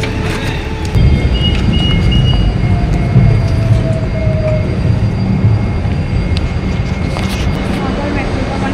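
A metro train rumbles past close by, a loud steady roar of rolling wheels and motor hum lasting throughout, with a faint whine and street background, no voices heard.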